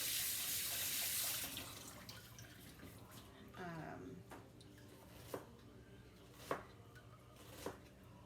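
Tap water runs briefly over sliced red onion in a kitchen, a close rushing stream that stops after about a second and a half. A few knocks and clicks follow as the onion is handled, with a soft voice faintly underneath.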